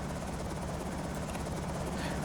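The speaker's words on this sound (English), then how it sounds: "We have been found by the helicopter." Low-flying helicopter in the video game Project Zomboid Build 41, a loud, steady rotor roar that fills the whole span without letup.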